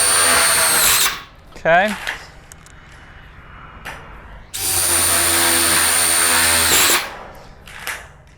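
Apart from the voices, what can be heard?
impact drill driving framing screws into a horse shelter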